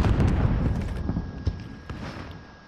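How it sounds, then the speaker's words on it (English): A rocket blast in the Call of Duty Warzone game, a muffled boom with a rumbling tail followed by a few smaller thuds and impacts that fade over a couple of seconds. "Shot a rocket at him."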